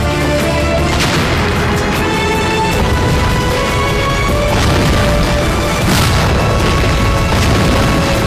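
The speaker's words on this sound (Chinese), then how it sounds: "把炮弹全给炸了" Artillery shells being blown up, a loud, sustained barrage of booms and crashing blasts with repeated sharp bursts throughout.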